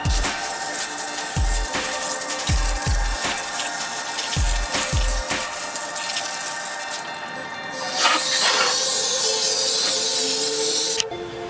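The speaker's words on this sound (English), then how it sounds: "let's go ahead and rinse it off" Water spray rinsing a hand-washed car wheel and tire, a steady loud hissing stream with short bursts and splashes, close by, shifting in tone partway through before cutting off near the end.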